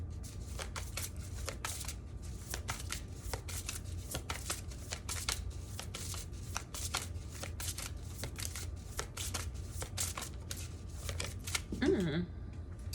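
Tarot cards shuffled close up in a long run of quick, papery riffling flicks, steady and dense, with a faint whistle-like tone near the end.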